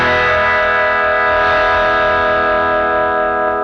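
An electric guitar plays through a Neural DSP amp plugin with the overdrive, compressor and tube screamer off, a single loud sustained chord ringing out bright and clean, then slowly fading.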